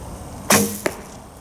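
A hunting bow looses a single arrow with a sharp, loud snap of the string, and a brief thud follows a fraction of a second later, with no talk.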